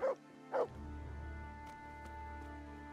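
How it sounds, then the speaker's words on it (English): Two loud, close dog barks in quick succession from the medieval RPG Kingdom Come: Deliverance, then steady ambient game hum with a few faint ticks and no further barking. "What are you barking at?"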